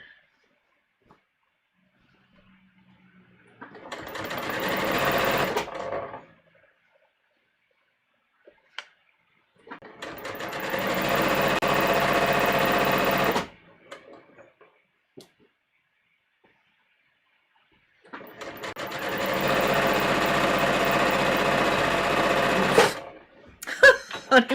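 A sewing machine stitching a muslin bodice, running in three separate bursts of steady rapid whirring, each a few seconds long, with near silence between them.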